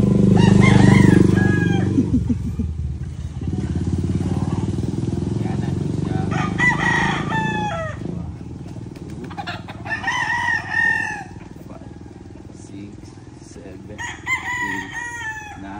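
A rooster crows several times, loud and nearby, the calls repeating at intervals, with a low engine-like rumble and brief voices early on.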